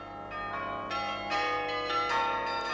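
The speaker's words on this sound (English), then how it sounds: "It's the cam again, tripping levers that pulled wires that eventually pulled the clapper on one or other of a number of differently tuned bells" Several differently tuned bells, rung by a cam-driven mechanism of levers and wires pulling the clappers, strike one after another, each leaving a bright ringing tone.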